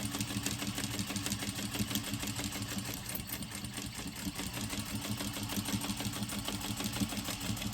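Sewing machine running steadily while chain stitching pieces for a Patsy tote, a fast, even mechanical whir and rapid needle chatter held close and continuous for the whole stretch, with no voices over it.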